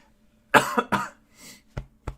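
Several sharp coughs close to the mic: a quick cluster of three, a softer rasp, then two short separate coughs.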